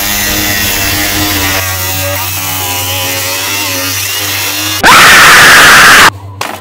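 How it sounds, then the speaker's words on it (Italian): An engine idles with a steady hum, then a loud, harsh angle grinder bites into a metal license plate for about a second before cutting off abruptly. "Tiriamo fuori dalla cassa filtro il flessibile e andiamo a rimuovere la targa."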